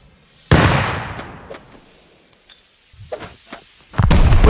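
Grenade blasts during a cave base defense in the survival game Rust, one loud booming burst decaying away, then scattered thuds and pops before a second blast at the end.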